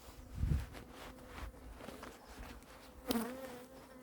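Honeybees buzz close around a hive being moved outdoors, a steady insect drone with a low thump and rustle early on and a sharper burst of noise near the end.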